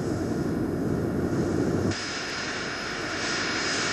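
Rolls-Royce Spey jet engines of a Nimrod maritime patrol aircraft roar steadily and loudly in flight, a broad continuous rush with a high whine that shifts in tone partway through.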